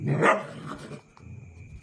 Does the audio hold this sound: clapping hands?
no